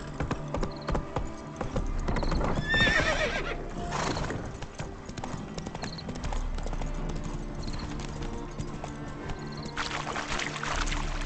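Roach, the horse in The Witcher 3, gallops and trots with rhythmic clip-clop hoofbeats, snorts and whinnies now and then, and plays over game ambience and music at moderate loudness.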